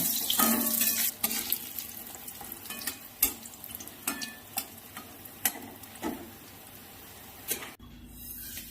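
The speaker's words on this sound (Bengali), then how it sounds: "আমি একটা কড়ার মধ্যে বড়িগুলো সব ভেজে নিচ্ছি।" Urad dal badis (biulir dal bori) sizzle and crackle in hot oil in a kadai, with scattered sharp clicks and pops from stirring over a steady fry hiss that cuts off near the end.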